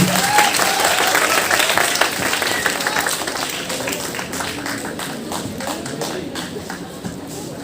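A crowd at a campus open mic and food carving event gives a burst of loud, dense applause that slowly fades over several seconds, with a little background talk.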